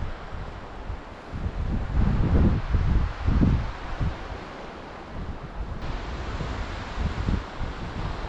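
Gusty wind buffets the microphone beside a stream during fly fishing in the Eastern Sierra, with low rumbling surges that swell around the middle and then settle into a steady, blustery roar.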